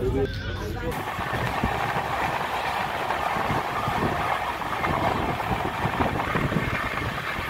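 Passenger train heading for Digha, a continuous rumbling roar of the carriage rolling along the rails, steady and close throughout with a brief bright rattle at the start.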